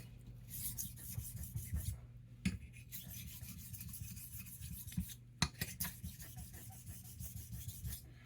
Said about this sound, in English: I know that I'm getting even honing on the edge of this razor